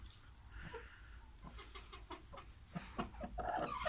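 A large hen gives soft, repeated clucks while she is placed on eggs indoors, with a faint steady high tone in the background.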